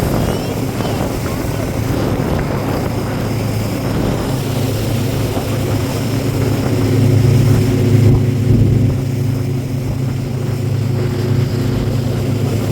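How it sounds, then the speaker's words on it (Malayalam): Motorboat ride on the water toward Mattupetty dam in Munnar, a steady loud engine drone and hum of water running throughout, with a voice talking over it at times. "15 മിനിറ്റ് ആണ് ഈ ബോട്ട് യാത്ര. മാട്ടുപ്പെട്ടി ഡാം വരെയും ഈ യാത്ര പോകുന്നുണ്ട്"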